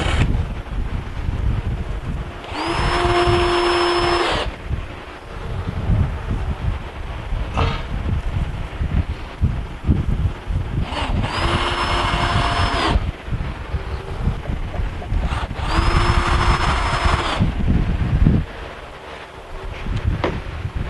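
A power drill drives screws into a wooden bench in three long bursts of whining motor, each lasting about two seconds, with quieter handling noise and wind between them.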